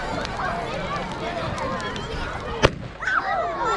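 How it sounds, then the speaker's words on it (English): A single sharp firework bang at a traditional bonfire night cracks out amid crowd chatter and voices, followed by fizzling, whistling crackle as more go off in the distance. "it looks like we've got some more fireworks in the making there"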